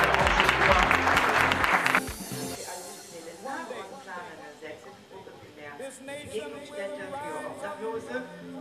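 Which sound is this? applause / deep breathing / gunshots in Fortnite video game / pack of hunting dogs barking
applause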